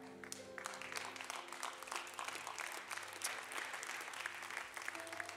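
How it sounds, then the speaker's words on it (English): A church congregation at a Sunday morning celebration service claps continuously and fairly loudly, a busy, sustained patter of many hands over a low musical hum. "You should be clapping louder for Jesus."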